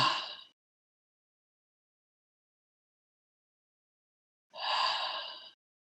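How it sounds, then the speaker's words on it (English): A slow group breath, a long audible inhale or sigh at the start and another full breath after several seconds of silence, soft and close with no talking. "So let's just breathe together."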